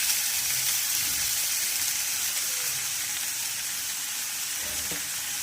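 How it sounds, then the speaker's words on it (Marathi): Sabudana tapioca pearls and potato fry in a pan for a sabudana khichdi, giving a steady, soft sizzle throughout with faint stirring scrapes and no talk. "हलकसं फ्राय झाल्यानंतर लगेच यावर आपल्याला साबुदाणा घालायचा आहे आणि बटाटा सुद्धा"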